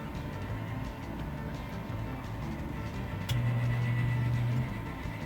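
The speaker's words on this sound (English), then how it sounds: "grinding that cycles about once a minute, that is actually the top auger motor" Grinding hum from the failing top auger motor of a pellet stove, a steady low drone under room noise that swells into a louder sustained grind partway through, recurring about once a minute.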